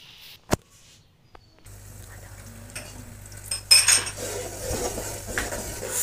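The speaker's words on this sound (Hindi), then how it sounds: "दो मीडियम साइज़ के हमने प्याज लिए और दो टमाटर लिए। अब हम इसको ऑयल में डाल" Onions and tomatoes drop into oil in a pressure cooker, bringing a few metal clinks and knocks, then a rising sizzle with utensil clatter over a low steady hum.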